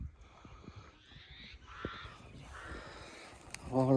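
Crows cawing outdoors in a rural yard, several harsh caws at moderate distance, with other faint birds and background noise.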